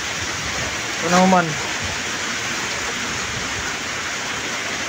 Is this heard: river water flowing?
yes